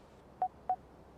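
A mobile phone keypad gives two short, clear dialing tones about a quarter second apart against a faint, quiet room background.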